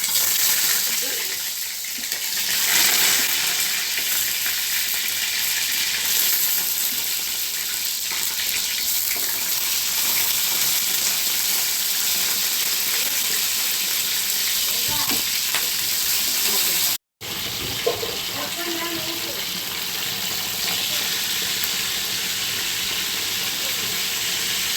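Brinjal fries in hot oil with a constant close sizzle, stirred with occasional scraping clinks, with a brief cut in the sound near the end.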